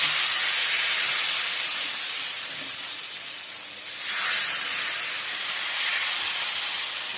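Rice flour batter for ghavne hits a hot pan and sizzles, a loud continuous hiss with broad steamy spray that dips briefly midway, then swells again as more batter is poured. No one speaks.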